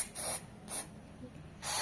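Three short bursts of Marsh contact cleaner aerosol spray hissing close by, with brief quiet gaps between them; the last burst is slightly longer.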